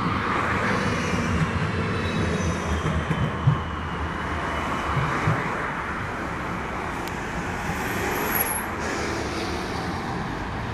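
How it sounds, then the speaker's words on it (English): A tram passes through light, fast-moving street traffic, heard as a steady broadband rumble and hiss of wheels and road noise with no talking. "There's a tram coming through."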